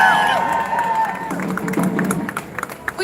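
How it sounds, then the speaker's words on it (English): A crowd at an outdoor rally in Ohio claps and cheers for a speaker, with scattered whoops and a ringing tone early on. The applause thins toward the end into a few separate claps. "Round of applause for Sean, everyone."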